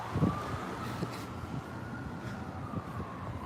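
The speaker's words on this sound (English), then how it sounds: "I don't know what direction the siren is." A distant siren wails faintly in a slow rising and falling tone, sitting low beneath a steady hum of street noise.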